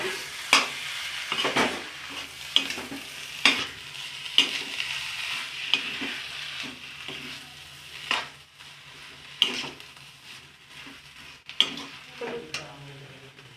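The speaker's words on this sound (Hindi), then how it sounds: "कटा हुआ धनिया डालकर इसको मिलाइए।" A spoon stirs samosa filling with chopped coriander in a pan, giving repeated scraping and tapping strokes at a loose, uneven rhythm over a soft background sizzle, close and moderately loud, with no talking.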